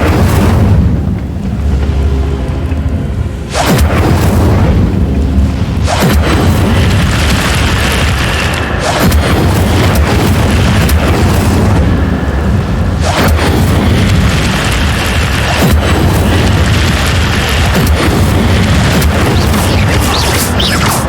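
Fire spells cast in Hogwarts Legacy burst out as loud, dense booming blasts, one after another, with roaring crackle and rumbling game sound throughout.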